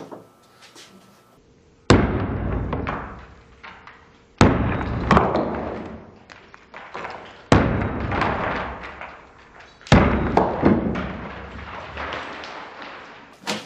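Flashlights striking the ground during a durability test: four loud, separate impacts, each a sharp crash followed by clattering and rattling as they settle, spaced a few seconds apart.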